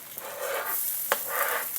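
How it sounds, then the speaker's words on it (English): Garlic and ginger with onions sizzling in a swirl of peanut oil in a hot stir-fry pan, a steady close crackling hiss with a brief clatter of stirring partway through. "You wanna hear that sizzle."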